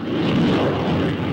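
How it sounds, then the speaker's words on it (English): Messerschmitt ME-262 turbojet plane roaring past in a brief, loud, broad rush of engine and air noise. "The ME-262 is a turbojet plane whose operation resembles a rocket."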